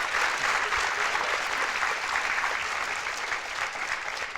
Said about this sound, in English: let's give a round of applause to Mr. Elijah, aka EJ.